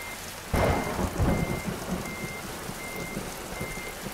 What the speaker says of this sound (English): I can tell you what isn't helping is this thunder.